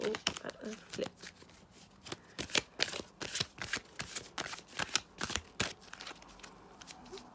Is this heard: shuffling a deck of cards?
yes